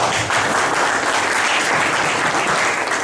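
Steady applause from a classroom audience fills the clip, dense continuous clapping at even loudness throughout, with no voices standing out.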